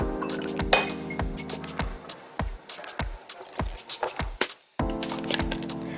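Cocktail spirits such as Cointreau, rum and gin measured into a glass for a Long Island Iced Tea, heard as a run of sharp clinks and taps of glass and metal, with a short quiet gap before more handling.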